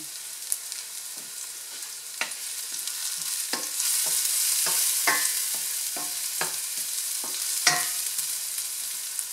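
Garlic sautés in oil in a pan with a steady sizzle, broken by sharp clicks and scrapes of a utensil stirring, loud and close with no talking.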